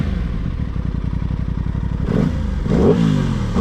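An Aprilia Tuono 660 motorcycle engine pulses in a loud, close, rhythmic idle-like throb, then revs up sharply twice with rising, snarling bursts.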